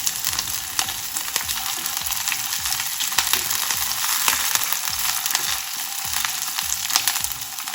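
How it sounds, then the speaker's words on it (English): Green chilies sauté in hot oil with a constant bright, hissing sizzle and a few light crackles underneath. No one speaks. "Once the oil is hot, I'm going to add the green chilies and just saute it for a few seconds."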